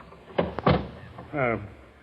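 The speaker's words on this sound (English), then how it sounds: "A door opens and his brother enters." A door opens as a radio drama sound effect, with a couple of short knocks and latch clicks followed by a brief creaking squeal, close and fairly loud against a quiet background.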